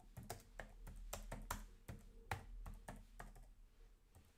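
Quiet, close typing on a computer keyboard, a quick irregular patter of keystrokes with a few heavier taps, and no talking.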